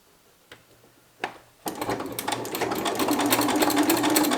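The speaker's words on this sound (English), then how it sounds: "Edge stitch along the long open side of the tie." After a couple of soft clicks, a sewing machine starts up and runs steadily as it edge stitches a fabric tie, a fast rhythmic whirring chatter close by that gradually picks up speed.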